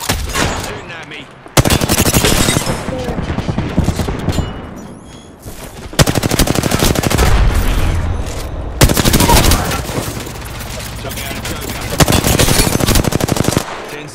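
Automatic weapons fire in the PC battle royale game Apex Legends, with long, loud, rapid bursts of gunfire broken by short pauses and a brief quieter stretch, dense and close throughout.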